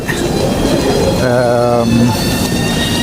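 Train at a railway station in Frankfurt, Germany, with a loud steady rumble and rolling noise, and a tonal horn or brake whine rising briefly in the middle.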